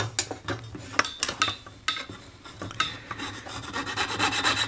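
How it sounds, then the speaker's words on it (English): A small hand saw, likely a jeweler's or piercing saw, cuts along a marked line in metal while a spatula is pierced. Rapid, raspy back-and-forth strokes sound up close, uneven at first, then steadier and louder toward the end. "So I'm going to saw up to my little shiny line and saw just on the left side of it"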